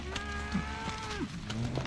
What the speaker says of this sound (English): So what we're doing here is the cows are grazing new grass.